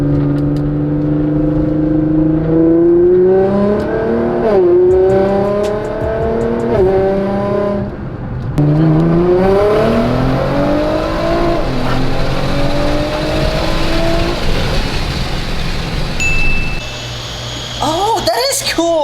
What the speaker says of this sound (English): Second gear, half throttle.